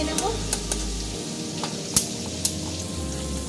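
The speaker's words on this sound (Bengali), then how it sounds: "এবার আমি এর মধ্যে দিয়ে দিচ্ছি রসুন কুচিটা তেলে। রসুনটা একটু ভালো করে ভেজে নেব।" Chopped garlic frying in oil in a pan for an aloo dum dish, with a steady sizzle and a few sharp clicks of a utensil stirring, close and even throughout.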